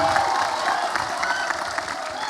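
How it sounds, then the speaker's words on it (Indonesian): Audience at a cinema screening of an Indonesian presidential debate bursts into loud applause and cheering, a dense, close wash of clapping and shouts that holds steadily for a couple of seconds. "Contohin dong tepuk tangan dan sweet-sweetnya gimana yang paling kencang"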